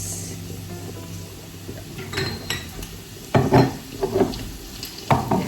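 Beef and onions sauté in a pan, with a soft sizzle under irregular bursts of utensil scraping and clattering against the metal, louder and denser toward the end.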